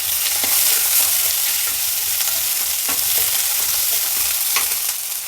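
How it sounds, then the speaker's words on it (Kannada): Chopped onions fry with curry leaves in a hot pan, a loud steady sizzle with occasional scraping stirs, close and continuous with no talk. "ಈಗ ಮೀಡಿಯಮ್ ಆಗಿ ಹಚ್ಚಿಟ್ಕೊಂಡಿರೋ 2 ಈರುಳ್ಳಿನ ಹಾಕ್ತಾಯಿದ್ದೀನಿ"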